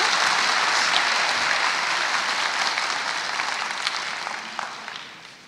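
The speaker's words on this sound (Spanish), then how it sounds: "Un aplauso más fuerte al valiente." An audience at a corporate event applauds, dense, steady clapping from many hands that fades slightly toward the end.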